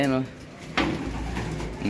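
Soft pigeon cooing inside a pigeon loft, with a sharp clatter partway through and a voice briefly at the start and end.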